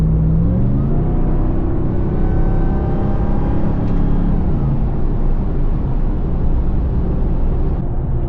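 A Ram TRX with an AFE air filter upgrade accelerates, its engine rumbling low and steady with a rising supercharger whine layered on top, heard from inside the cabin.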